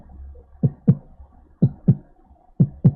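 A beatboxer's mouth imitates a heartbeat with the 909 kick, three close pairs of low thumping double beats in a steady rhythm, near and alone.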